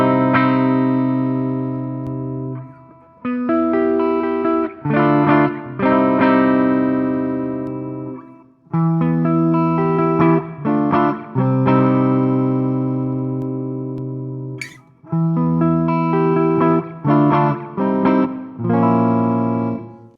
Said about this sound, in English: So let's do a clean tone, a little bit of reverb on this too.